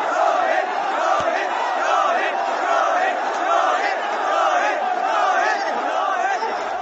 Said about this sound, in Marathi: लाखोंच्या गर्दीतून रोहित रोहित असा आवाज येत होता